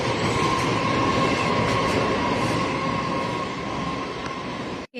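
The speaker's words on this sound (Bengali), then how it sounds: "জানলা খুললেই ট্রেন দেখা যায়।" A train passing close outside an apartment window, a loud continuous rumble of wheels and carriages with faint rhythmic clacking and a thin squeal, cut off abruptly at the end.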